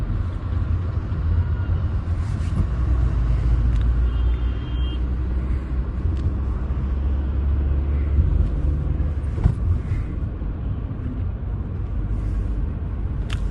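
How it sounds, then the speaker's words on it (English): Buses of the Islamic University of Science and Technology approaching on a road in Pulwama, Kashmir, a steady low engine rumble with passing traffic and occasional brief clatters, fairly close and continuous. "this is the bus of, and many buses are approaching"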